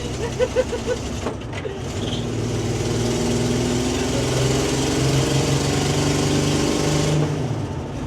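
A 1965 Ford Econoline van being driven with its engine running rough, a steady uneven drone and rattle throughout, loud and close from inside the cab.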